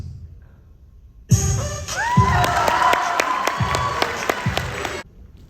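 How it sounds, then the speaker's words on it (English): Sudden burst of applause and cheering from a school audience at a mid-year celebration, starting abruptly after quiet, with whoops and kids' shouts over the clapping, then cutting off sharply. "Reach inside and applaud to a thunderous round of applause"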